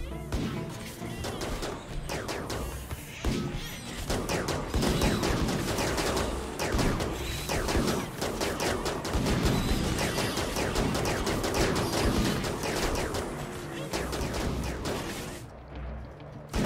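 Continuous volleys of charge weapon gunfire in RimWorld as tribals fight capybara and rhinos in a jungle, dense crackling shots and impacts rattling on without pause, loud throughout.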